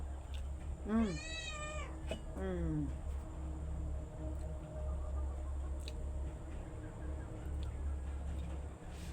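A cat begging for food gives two insistent meows in quick succession near the start, the second shorter, then only a low background hum.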